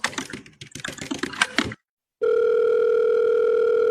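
Telephone tones from placing a call: a burst of quick keypad-like blips, a brief silence, then a loud steady continuous ringback/dial tone holding to the end, with no talking.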